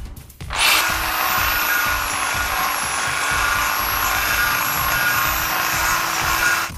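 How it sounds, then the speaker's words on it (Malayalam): An electric drilling machine bores holes into a fridge compressor being turned into a homemade painting machine, starting with a sudden whine and running as a loud, steady high-pitched drone close by. "അതിനുവേണ്ടി ഡ്രില്ലിംഗ് മെഷീൻ ഉപയോഗിച്ച് നമുക്ക് ഡ്രില്ല് ചെയ്യാം"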